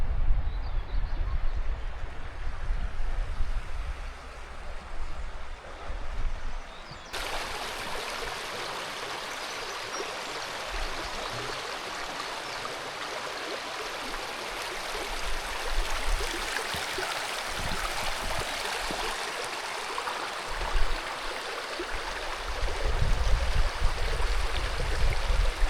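River water at Malham Cove flows and rushes steadily throughout, a broad continuous wash of noise that grows fuller and brighter after the first few seconds, with no talking.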